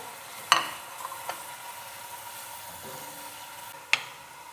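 Browned onions fry in a pan for chicken tikka biryani, with a low, even sizzle throughout and a couple of sharp spoon clatters from stirring, one near the start and one near the end.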